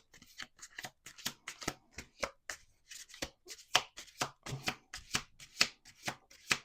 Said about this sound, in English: We're going to do one more shuffle.